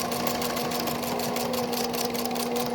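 Sewing machine stitching down the center of a fabric mask, a soft, steady motorized hum with a quick rhythmic needle patter running evenly throughout, fairly quiet and close.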